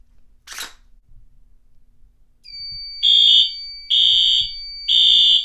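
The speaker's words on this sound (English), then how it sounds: "Now let's test the smoke detectors with my trusty can of Smoke Saber." A smoke detector alarm goes off during a fire alarm system test, sounding as three loud, steady electronic beeps in a regular pulsing pattern after a brief hiss of aerosol test spray.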